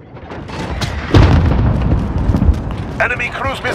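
Artillery fire-mission explosions in Call of Duty: Modern Warfare Ground War on the Port map: a heavy, close boom lands about a second in and rolls into a sustained rumble, with a game radio voice cutting in near the end.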